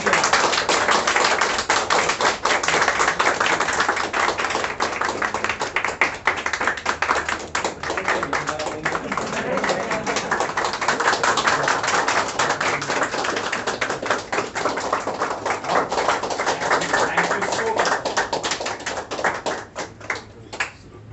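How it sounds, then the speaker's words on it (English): A group of trainees at a technical training institute in Bangalore claps steadily for over twenty seconds, a dense, continuous patter of many hands close by, fading slightly near the end. "Clap for morning."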